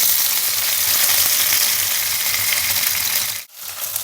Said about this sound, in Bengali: আমরা এবার ঘুরিয়ে ফিরিয়ে সব দিকটা ভেজে নেবো